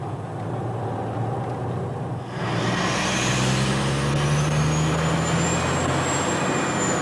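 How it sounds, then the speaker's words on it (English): Truck towing a trailer on a rural highway, rounding a corner on a bridge: steady, loud engine and road rumble throughout, swelling slightly as it turns, with no talk. "As long as your truck makes the corner here on the bridge, your trailer pretty much makes it too."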